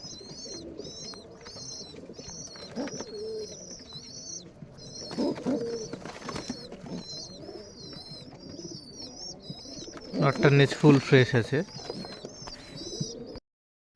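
Giribaj pigeons from Rajshahi coo in repeated soft, throaty rounds close by, while someone talks over them and a louder burst of fluttering and calls comes near the end.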